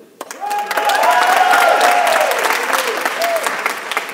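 An audience at a CSD Class of 2018 graduation ceremony bursts into loud, continuous applause mixed with cheers and whoops, rising quickly and holding strong for several seconds.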